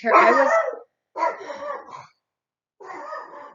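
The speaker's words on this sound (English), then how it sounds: "Sorry, that's my dog." A dog barks nearby in three separate bursts with pauses between, fairly loud and clear, with no talking over it.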